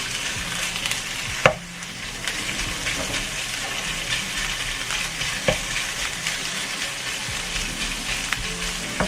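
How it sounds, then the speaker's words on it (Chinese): Flaked salmon is stir-fried in a pan with a constant close sizzle like rain, broken by a sharp utensil knock early on and a few lighter taps later; nobody talks. "然后炒一炒。"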